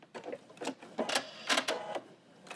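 Short bursts of a sewing machine stitching a seam on a fabric Christmas tree napkin, several quick runs of motor whir separated by brief pauses, close and fairly quiet.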